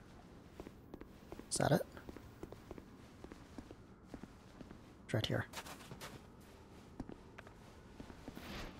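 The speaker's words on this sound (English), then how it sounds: "the footsteps sound really weird" Footsteps in Dark Souls 2, soft and odd-sounding, pattering steadily at low level with a couple of louder bursts, while a person talks over them.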